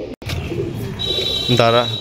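A teddy pigeon in a loft gives low, soft throaty coos, close and steady, with a voice briefly overlapping near the end.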